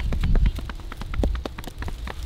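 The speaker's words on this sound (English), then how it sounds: "Dad's wrestling the horse, Sam." Horse hooves clop and shuffle on the ground as a mare is held and handled by the neck on a rural property, a quick uneven run of close, loud hoof taps.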